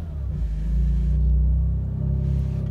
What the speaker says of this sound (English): What we do is let's turn on the vehicle